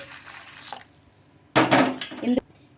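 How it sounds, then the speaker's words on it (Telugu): Boiling water splashes briefly, then pours for about a second into a bowl, ending with a light clink; quiet kitchen noise before. "మరిగే నీళ్ళు ఇందులోకి అయితే వేసుకోవాలి"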